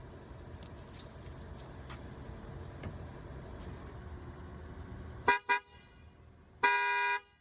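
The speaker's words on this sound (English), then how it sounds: "Next, we're going to test out the horn." A 2021 Toyota Venza horn sounds in two short quick honks, then one longer sustained blast, loud and close after a stretch of quiet background hum.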